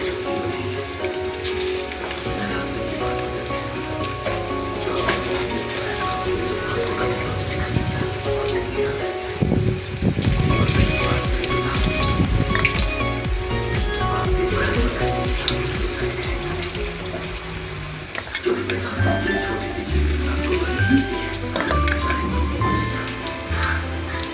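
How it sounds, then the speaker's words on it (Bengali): Soybean chunks fry slowly in hot oil in a wok, a dense, rain-like crackle and hiss that swells around the middle and carries on steadily without talk. "এগুলোকে আমি আস্তে আস্তে করে ভেজে নেব"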